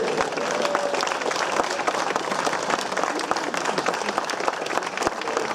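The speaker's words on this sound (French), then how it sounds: "On applaudit bien fort Pauline Ferrand-Prévot" An outdoor audience applauds cyclist Pauline Ferrand-Prévot at a time-trial prize ceremony of the Route de France; dense, continuous clapping with sharp individual claps standing out, and no voices.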